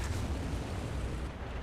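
A tank in War Thunder takes a hit from an MBT-70: a dense, rumbling blast of low booming noise that fills the moment loudly and fades slightly at the end, with no voices.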